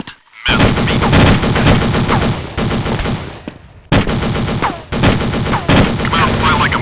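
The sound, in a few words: gunfire in the video game Counter Strike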